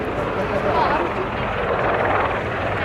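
Royal Navy Wildcat helicopter departing nose-down at an air display at Yeovilton, its rotor and engine noise a steady broad roar under a commentator's voice.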